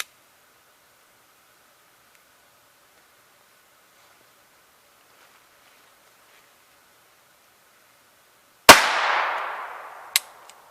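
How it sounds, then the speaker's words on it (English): A Walther P22 pistol firing a Winchester .22 round at 7 yards, heard as one loud sharp shot near the end with a short ringing decay, then a second, fainter crack a moment later, after a long quiet stretch. "I'll be shooting the Winchester first"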